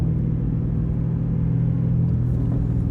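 A 2007 Ford Mustang GT V8 with an SCT tune idles with a steady deep rumble, a light blip of the throttle barely lifting the engine note, close and continuous with no talk.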